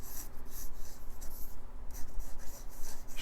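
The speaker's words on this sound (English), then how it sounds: "Just kind of letting the piece come to life as I sketch in the rough shapes." A pencil scratches rough shapes onto paper while sketching Captain America: a close, continuous run of short scraping strokes with brief pauses between them.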